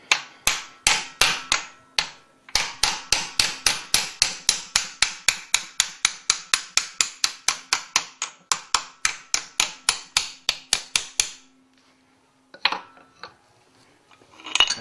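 Hammer taps pins out of a Porsche 911 crankcase during a stripdown, a steady run of sharp metallic strikes about two per second, close and loud, pausing briefly near the end before a couple of final knocks.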